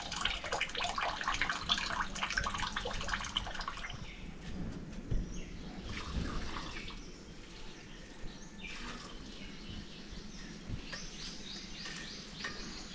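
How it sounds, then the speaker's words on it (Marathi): Water drains off soaked lentils in a faint, continuous trickle and splash that runs throughout at low level, close by in a quiet kitchen. "सगळं पाणी आपल्याला हे निथळून घ्यायचं आहे"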